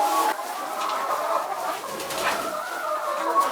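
Chickens cluck and murmur softly in a coop beside the nesting boxes, with faint, scattered calls over a quiet background and no talking.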